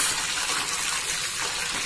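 A pan of hot oil crackles and spatters steadily as freshly washed curry leaves go in for a South Indian sambar, a dense close hiss without pauses.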